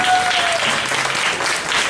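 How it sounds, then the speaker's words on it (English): Applause from a comedy club audience at a Halloween show fills the room, dense and continuous clapping that stays loud throughout without letting up. "put your hands together for Ian Oldman"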